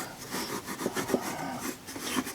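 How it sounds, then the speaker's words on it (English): Steel wool, grade 3/0 or 4/0, scuffs lightly over a painted pattern on a foundry matchplate, making a soft continuous rubbing rasp with a few brief louder strokes, close and steady with no talk. "I take 3 or 4/0 steel wool and I just kind of scuff over the whole thing"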